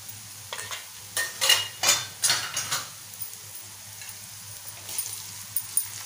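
Spices sauté on a tawa for a prawn masala fry, with bursts of scraping spatula strokes and stirring over a soft sizzle, separated by quieter pauses.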